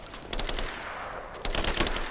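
Rapid automatic gunfire in the action game Rise of the Tomb Raider, dense repeated bursts of shots, loud and close, with a brief lull before a second heavy volley.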